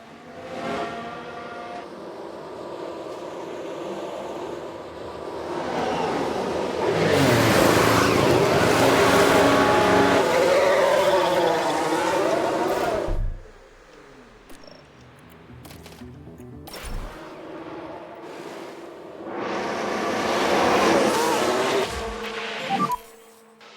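An F1 race car spinning out in the F1 Manager 22 game: a loud engine wail rises and warbles for several seconds, cuts off abruptly, then returns in a shorter burst after a gap of quieter sounds.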